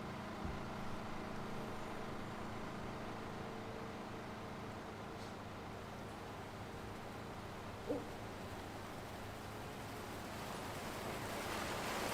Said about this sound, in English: Can you hear the water? It must be an underground water source there.